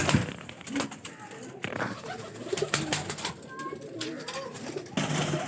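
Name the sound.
pigeons cooing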